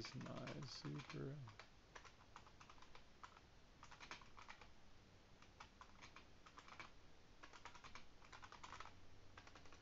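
Fingers tap quickly on a computer keyboard, entering text into an online text editor in bursts of close, crisp keystrokes, with quiet talk at times.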